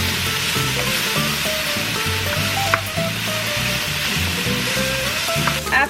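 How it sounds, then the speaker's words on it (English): Potatoes for a dairy-free keto breakfast frying in a pan, a steady loud sizzle with repeated rattling scrapes as they are tossed and stirred. "We want to toss everything, make sure it's cooking evenly."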